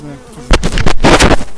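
Loud, close buzzing of many honeybees swarming at a hive with laying worker bees, starting abruptly after a brief quiet hum and continuing as a dense drone.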